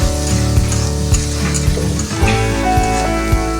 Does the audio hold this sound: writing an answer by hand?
no